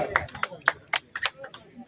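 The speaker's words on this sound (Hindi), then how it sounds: "उनका तालियों से स्वागत करें आप।" A crowd at a village foundation-stone ceremony claps sparsely and unevenly in welcome, with a few scattered hand claps and faint voices underneath.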